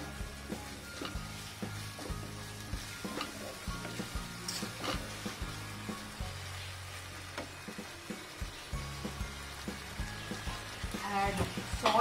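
Chicken tossed in a pan with crushed pepper and sauces, giving a continuous sizzle with repeated rhythmic scrapes and knocks of the spoon, louder toward the end.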